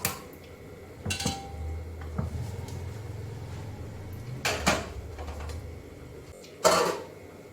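A metal cooking pot being set upright and handled in a home kitchen while fish is marinated with salt and turmeric: a low scraping rumble with a few sharp clatters and knocks, close and fairly quiet.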